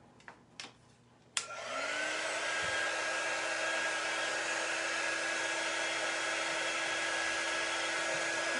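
A hair dryer blasting steadily to dry ink on a fishing lure, switching on after a few soft handling clicks and then running loud and constant until the end.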